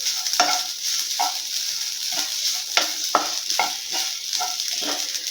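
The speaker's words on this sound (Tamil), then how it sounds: "மீடியம் ஃப்ளேமில் வச்சு ஒரு நிமிஷத்துக்கு நல்லா வறுத்து எடுத்துக்கிறலாம்." Ingredients for wheat coconut biscuits dry roasting in a pan over a medium flame, with steady scraping strokes of a spatula repeating every half second or so over a soft continuous hiss, close and fairly loud.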